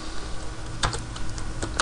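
Keys clacking on a computer keyboard as a search for the Ubuntu 7.10 MD5 checksum is typed, a few quick bursts of close, crisp taps over a low steady room hum.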